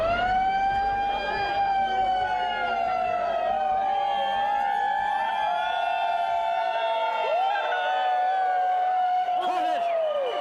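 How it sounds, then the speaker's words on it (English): A wailing siren set off from a rooftop during St. Patrick's Day street crowds sweeps up and down continuously, loud and steady, with the crowd's voices murmuring faintly beneath it. "we have somebody up at the top of the roof letting off a siren"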